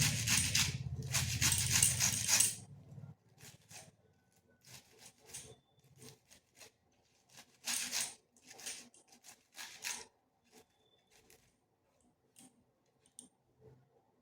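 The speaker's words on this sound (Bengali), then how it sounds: "কপির যে এই যে ডান্ডাটা এটাকেও গ্রেড করে নিচ্ছি" Cauliflower florets and the thick stalk rubbed against a kitchen grater, with loud, rapid rasping strokes for the first couple of seconds, then quieter, scattered scraping and tapping sounds. No one talks.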